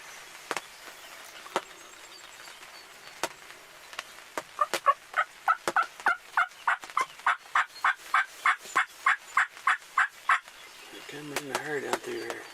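Wild turkeys gobble during a spring turkey hunt, a rapid run of clucking and gobbling calls building in a rhythmic burst, with scattered sharp calls before and a voice talking near the end.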